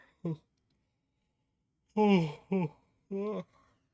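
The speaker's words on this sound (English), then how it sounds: "of course I have to yawn." A person yawns nearby, a few breathy voiced sounds rising and trailing off between short pauses.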